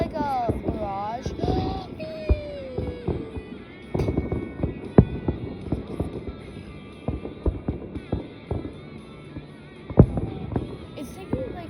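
Fireworks bursting outdoors, a string of sharp pops and distant booms at irregular intervals, heard under people talking, exclaiming and laughing nearby.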